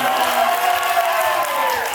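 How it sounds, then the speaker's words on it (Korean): A studio audience at a Korean music show cheers and applauds, a loud continuous roar of crowd noise that holds steady throughout, with no speech over it. "여러분 분께 큰 박수 부탁드리겠습니다"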